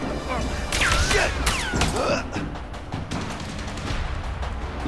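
Gunshots in the video game A Way Out, several sharp cracks spread across the moment, mixed with game effects and a player's voice talking over them.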